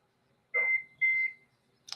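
Two short electronic beeps in quick succession, fairly clear against a quiet background, followed by a faint brief click.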